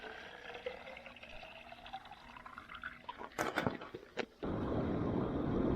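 Water from a roadside spring source splashing into a container as it is refilled, a few sharp clatters followed by a loud, steady rush of pouring water, with no talk.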